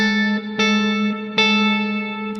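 Two sustained notes sound together in a harsh, clashing interval, with a distorted, effects-heavy electric tone and two sharp re-attacks along the way.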